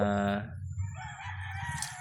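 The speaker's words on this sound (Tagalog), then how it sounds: "Ganda ng mga manok niya." A rooster crows once, loud and near, its harmonic call fading into clucking and softer fowl sounds in the background.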